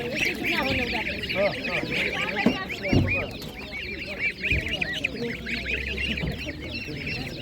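A crowded livestock market in Ukraine with a chorus of ducks quacking and geese honking nearby, many overlapping calls, while people talk in the background.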